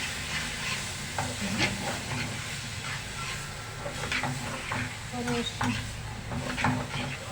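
Small onions and a chili pepper sauté in a pan with a steady, close sizzle and hiss, broken by light stirring scrapes, while someone talks over the cooking.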